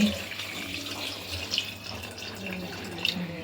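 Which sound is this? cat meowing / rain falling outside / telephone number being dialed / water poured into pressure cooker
water poured into pressure cooker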